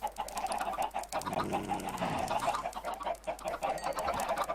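Chickens clucking in a video game, a steady flock of short repeated clucks and coos over a constant low hum, faint and without talk.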